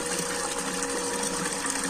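Steady running water with a continuous pump-like hum, filling containers at a village home. The flow stays level and fairly close throughout, with no talk over it.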